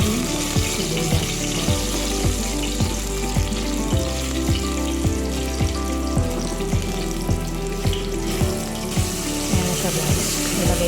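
Garlic sizzles and fries in a hot pan, a steady crackling hiss broken by regular scraping knocks as it is stirred, with only faint background noise.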